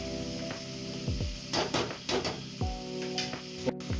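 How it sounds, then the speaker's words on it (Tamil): Mutton biryani ingredients sauté in hot oil in a pot, a steady sizzle broken by several scraping stirs and knocks of a utensil against the pan, close and alone without voices. "லைட்டாக எண்ணெயில் வதங்கினாலே போடும்."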